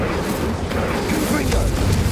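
Incendio fire spell cast in Hogwarts Legacy: a short, loud, dense whooshing burst of flame with rumbling low end that fills the whole moment.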